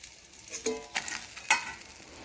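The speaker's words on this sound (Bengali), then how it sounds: "এখন ওই তেলে ফড়নে দিলাম একটা তেজপাতা দিলাম পাঁচ ফড়ন" A bay leaf and five-spice seeds hit hot oil in a pan and give a soft, steady sizzle, with a few sharper crackles and spits. The sound is close and fairly quiet.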